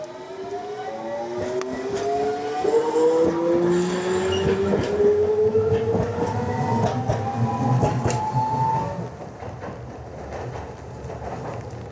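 A Hiroshima tram that survived the atomic bomb rolls along with a steady rumble, rising and falling tonal whines from the motors, and occasional rail clicks, fairly close, before easing off near the end.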